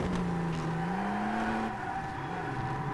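A race car engine in DTM Race Driver 3 drones at high revs with a steady rising whine, then drops in pitch as it shifts or lifts, continuous and close, with faint tire and track noise beneath.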